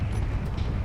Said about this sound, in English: Artillery fire cannons are firing.